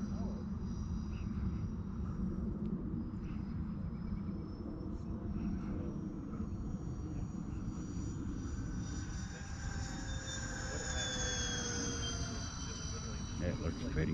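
An E-Flite A-10 Thunderbolt II radio-controlled jet with 64mm electric ducted fans whines steadily overhead at a flying field, its pitch rising and falling as it passes. People talk close by throughout.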